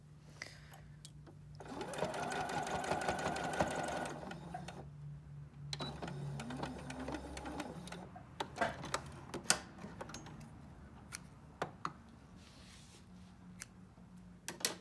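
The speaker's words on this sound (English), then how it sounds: "this is a zigzag machine" A zigzag sewing machine stitches a fleece hat in steady mechanical bursts, a dense continuous run near the start followed by shorter stop-start passes with clicks and handling noises, close and fairly loud with no talking.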